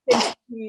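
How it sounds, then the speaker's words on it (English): A single sharp, noisy sneeze bursts out loudly and ends abruptly, followed after a short gap by a brief voiced sound that could be speech. "Gesundheit."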